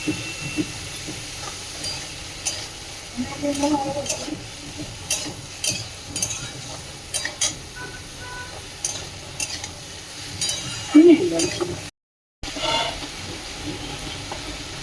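Spinach being stirred and fried in a pan with salt and turmeric, giving a continuous soft sizzle broken by irregular spatula scrapes and taps, close by and moderately loud, with a brief dropout near the end.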